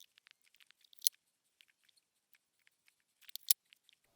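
Soaked chilies being snipped and handled, giving sparse, quiet, crisp cutting clicks and soft wet squishes scattered irregularly, with two sharper snips standing out.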